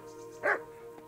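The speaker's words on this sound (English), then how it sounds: "The dog is barking at me" A dog in the video game Kingdom Come: Deliverance gives a single short bark over a steady background game hum, moderately loud and slightly distant.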